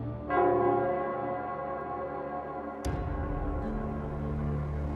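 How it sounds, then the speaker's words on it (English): A large bell in the Nell Squares of the Wuthering Waves video game tolls twice, each strike ringing out loud and then decaying in a long, resonant hum. "it's the Nell Squares bell."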